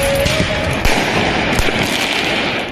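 Fireworks are launched at police by a masked group during street protests in Rennes, France, giving a dense, loud crackle of bursts and pops that runs without pause.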